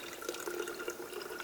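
Water running from the opened screw cap of a 10-litre water bag beside a tent at a lakeside fishing camp, a steady close splashing trickle with no talk.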